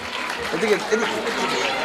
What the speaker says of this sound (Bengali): একবার জোরে হাততালি প্রত্যেকে